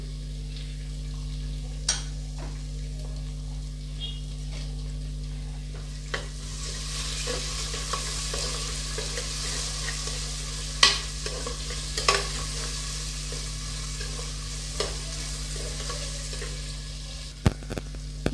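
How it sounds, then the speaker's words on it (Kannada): Long-cut onions sizzle and fry steadily in a pan for ridge gourd bath, a soft continuous crackle with occasional sharp clicks and stirring scrapes, no talking. "ಈಗ ಇದಕ್ಕೆ ಈರುಳ್ಳಿ ಹಾಕ್ತಾ ಇದ್ದೀನಿ ಉದ್ದ ಕಟ್ ಮಾಡ್ಕೊಂಡಿರೋದು"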